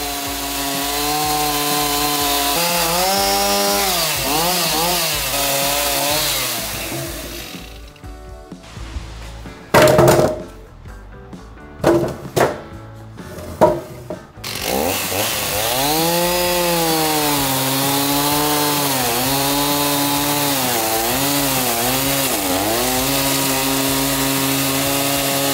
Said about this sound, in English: Now I'm measuring and rough cutting the wood.